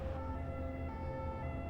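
An ambulance siren sounds steadily for the whole stretch, a sustained tonal wail with strong harmonics over low traffic rumble, fairly close and loud.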